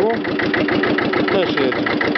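A Hinomoto E23S tractor's small diesel engine pulls away in reverse gear, its steady rhythmic chugging loud and close throughout, with a voice talking over it.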